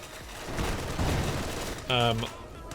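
Machine gun fire crackles in Company of Heroes 2 as a British force pushes against an MG position: short bursts and booms mixed under game voices and clatter, with a brief tonal alert near the end.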